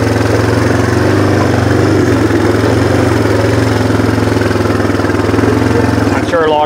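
A mid-pitched engine idles steadily with a low, even throb, running continuously without revving as the vehicle climbs a hill carrying a heavy load of logs.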